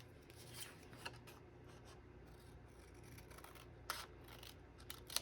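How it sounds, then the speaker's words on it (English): Scissors trimming paper for a collage, a series of quiet close snips and rustles with a few sharper cuts, no voices. "I am going to trim this down a little bit though"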